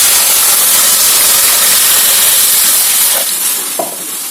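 Water poured into a hot pan on the stove hisses and sizzles loudly and steadily up close, with a couple of faint clinks near the end.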